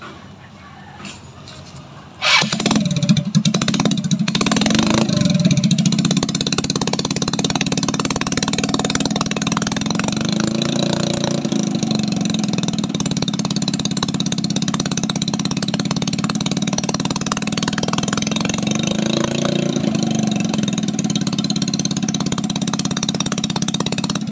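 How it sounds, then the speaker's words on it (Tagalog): A Yamaha Mio Sporty motorcycle with RB8 mag wheels starts after a wheel-bend check, a sharp cranking burst followed by a steady, close idle that runs on with an even mid-pitched throb. "paanda rin po ulit natin yung motor para makita nyo po mga bossing kung bengkong pa po ito"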